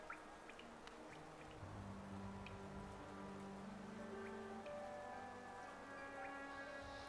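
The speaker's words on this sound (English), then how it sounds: "I so love the sound of the rain upon glass" Steady rain patters on glass in a quiet resting spot in Hollow Knight, a constant soft hiss with scattered droplet ticks, while low sustained music tones play underneath throughout.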